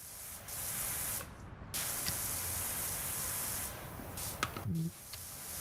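Steady pressure-washer spray hissing from a nozzle during cleaning in a video game, running almost continuously with a brief cutoff and a few small clicks, loud and close with no talk.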